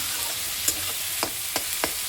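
Onions frying in a pan while cooking Bombay duck fish give a soft, continuous sizzle broken by four sharp spatula scrapes and clinks, the last three coming in quick succession.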